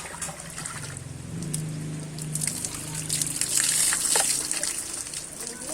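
Water gushes and splashes steadily during an outdoor bath, close and fairly loud, while voices talk over it.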